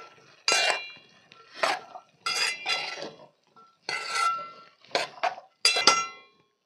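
A metal spoon stirs cauliflower curry in a pan. The stirring sounds as a run of distinct scraping and clinking strokes, loud and close, separated by short pauses. No one speaks.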